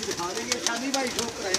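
Domestic pigeons, a teddy hen and a golden cock, coo in low rolling murmurs close by, overlapping with someone talking.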